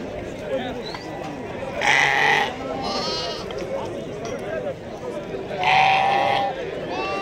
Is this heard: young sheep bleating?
yes